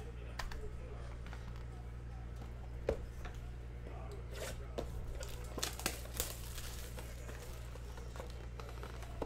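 Foil wrapper of a 2020 Panini Donruss Optic Baseball blaster card pack being ripped open, with faint close crinkling and tearing in scattered bursts over a low steady hum, and someone speaking at times.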